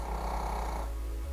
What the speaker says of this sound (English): By the way, that's my dog snoring.